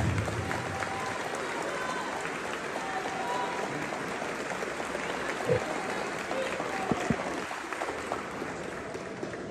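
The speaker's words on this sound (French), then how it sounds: "Applaudissez-vous encore une fois, s'il vous plaît" Audience applause fills a hall at a French-speaking gathering, a dense steady wash of clapping at moderate distance with a voice faintly audible beneath it.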